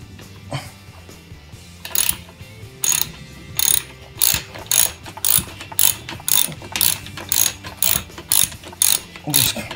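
Ratchet socket wrench with a 14 mm socket cranking loose the front axle of a TaoTao DB14 110 dirt bike, giving a steady series of loud, close rhythmic ratcheting bursts, one stroke after another, with no talk.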